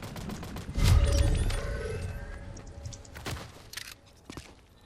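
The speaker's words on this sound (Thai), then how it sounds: "ข้างหน้ายิงกัน" Gunfire in Fortnite: a loud nearby shot or burst early on, followed by scattered quieter shots and clicks, with no one speaking.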